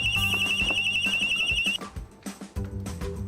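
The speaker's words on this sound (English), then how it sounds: "and sound an alarm." A Secvest intruder alarm system sounds a loud, piercing warbling siren tone, then cuts off into clattering noises.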